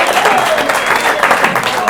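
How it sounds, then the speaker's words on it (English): A comedy club audience bursts into steady, dense applause for a comedian, loud and close throughout, with a few voices and faint cheers mixed into the clapping. "give Biff a round of applause"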